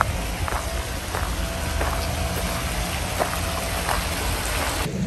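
Water jets of a running fountain in a botanic garden in Adelaide, a steady close hiss and splash like heavy rain, with faint scattered drips and no talk.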